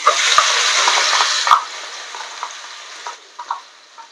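Ground fresh coconut and unroasted chilli paste fries in very hot oil with cumin for a Karadai sukki bhaji, a loud broadband sizzle that fades after a few seconds. Faint stirring taps sound under it, with no talk.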